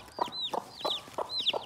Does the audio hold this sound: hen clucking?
yes